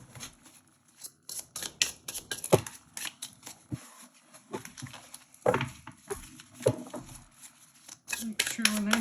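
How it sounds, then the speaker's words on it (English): Cards are riffled and shuffled in repeated quick bursts of crisp flapping, close up, with brief pauses between shuffles. "So I'm just going to shuffle this a little bit more and make sure we're good."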